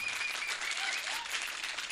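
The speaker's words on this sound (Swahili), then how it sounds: "Musanii ungepiga makofi mazito kuliko hiyo." An audience at a speech event about Kenyan music applauds, a dense and steady wash of many hands clapping at moderate distance for a couple of seconds, with no voices over it.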